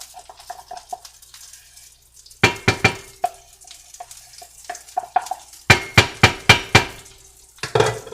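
A wooden spoon stirs butter into Brussels sprouts in a pot on the stove, giving bursts of rhythmic scraping and clacking strokes with quieter pauses between them, close and fairly loud.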